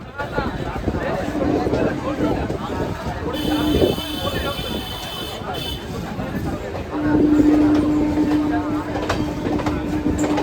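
Kolkata Circular Rail train running along the Ganges bank, a steady rumble and clatter of wheels close by, with people talking over it.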